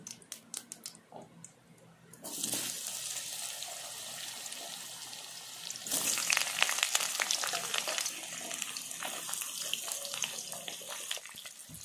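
Potatoes tip into a hot pan of oil with cumin, and a loud, steady sizzle suddenly erupts after a few seconds of quieter background. The hiss swells further midway and keeps crackling close by, with no voices.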